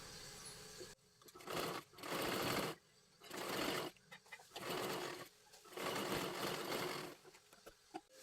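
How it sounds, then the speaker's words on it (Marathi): A sewing machine double-stitches a puffed sleeve onto a garment, running in five or six quick bursts of rapid mechanical chatter with brief pauses between, fairly soft and close, with no talk. "परत एकदा आपल्याला डबल शिलाई मारून घ्यायची आहे"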